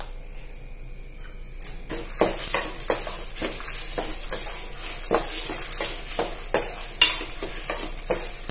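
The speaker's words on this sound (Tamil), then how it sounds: "அடி பிடிக்காம வறுக்கணும்" Lentils dry-roasting in a pan while a spoon stirs them, giving repeated scraping and rattling strokes in a steady rhythm, close and fairly loud over a low background hum, with no talking.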